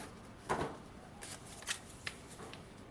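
Stiff manila folder cardboard being cut, heard as a few quiet, sharp snips and crisp rustles in a still room, spaced irregularly over a few seconds.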